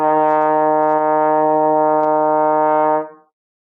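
A single sustained trombone note played in third position, steady and clear with rich harmonics, held for about three seconds before fading out. No other sound accompanies it.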